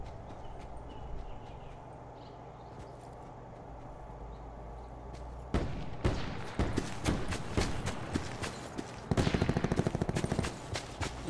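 Gunfire in Call of Duty Black Ops 4 Blackout: a quiet stretch breaks into scattered shots and bursts of automatic fire, moderately loud and somewhat distant, with a sharper rapid volley near the end.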